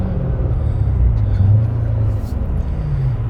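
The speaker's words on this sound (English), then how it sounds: "So we're leaving in the Z06" A Chevrolet Corvette C7 Z06 pulling away in poor weather, with a loud, steady, deep engine rumble from inside the cabin and faint voices under it.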